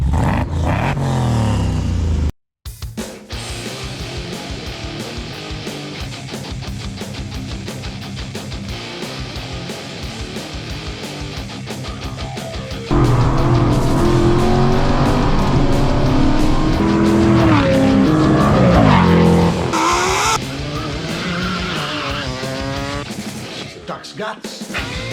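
V8 Holden Commodore, VE/VF model with an aftermarket exhaust, droning loudly throughout with revving swells and a louder surge midway, heard up close with a brief cut near the start.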